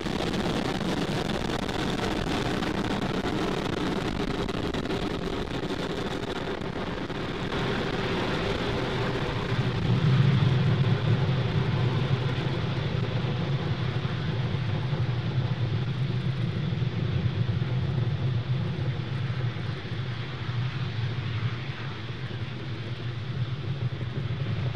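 A SpaceX rocket climbs and pitches downrange, heard as a continuous distant rumbling roar that swells and thickens in the low end partway through and then holds steady.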